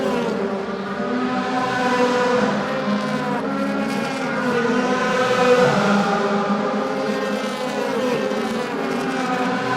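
DTM race cars scream around Moscow Raceway, one high engine note rising and falling through gear changes as a car approaches and passes, with a steady background of more engines.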